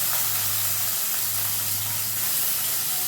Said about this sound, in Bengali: তো রান্না করার আগে ফার্স্টে আমি মাছগুলোকে ভেজে নিচ্ছি একে একে করে।